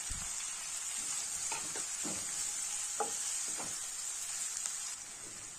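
Onions and green chillies sauté in a pan for tomato kurma, giving a steady, moderate sizzle with a few soft spatula stirs and scrapes throughout. No one speaks.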